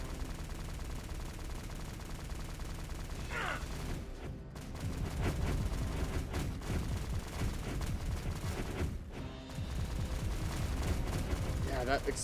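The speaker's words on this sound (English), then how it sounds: "that explosion sound effect is so obnoxious" Explosion sound effects from a Godot-built pirate-themed attack platformer game boom and rattle repeatedly in a loud, dense barrage, with a voice talking underneath.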